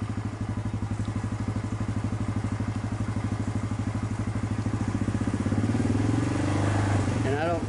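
Motorcycle engine on a race stand in first gear running at a steady, loud pulsing idle, then rising in pitch as it revs up near the end.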